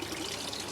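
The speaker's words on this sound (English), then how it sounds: "I just get it from the overflow." Water trickles from the overflow of an aquaponics tank, a soft, steady, close-up dribble that runs without a break for under a second. No voices.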